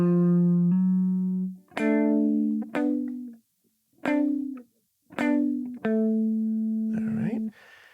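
Electric guitar playing a slow gospel quartet drive phrase, sustained clean notes and bends in separate phrases with brief gaps, close and loud, with no voices over it.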